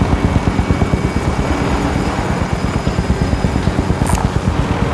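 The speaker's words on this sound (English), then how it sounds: "Here, I found a helicopter." A loud helicopter in the video game Call of Duty: Warzone drones close by, its rotor chopping in a steady rapid pulse that holds throughout with no talking.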